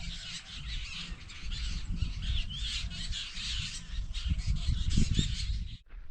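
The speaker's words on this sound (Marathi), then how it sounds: "तर पक्ष्यांचा कसा गोंधळ चालू आहे सगळीकडेच" A large flock of birds squawks and caws continuously over a freshly rotavated wheat field, a dense, steady chorus of overlapping harsh calls at moderate distance.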